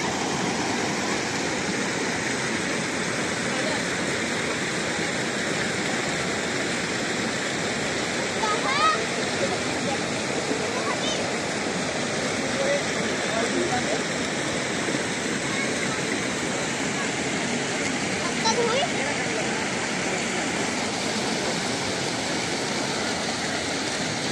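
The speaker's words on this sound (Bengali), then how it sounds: "কাঁচের মতন জল যাচ্ছে। নিচের পাথরের নুড়িগুলোও পর্যন্ত দেখা যাচ্ছে।" Clear water of the Rimbi river in West Sikkim rushes over pebbles in a continuous, even, close roar that stays steady throughout with no pauses.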